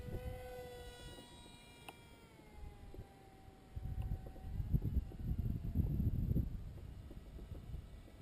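A small radio-controlled model airplane comes in to land over grass, its faint high propeller whine sliding slowly down in pitch, with louder wind-like rumble in the second half.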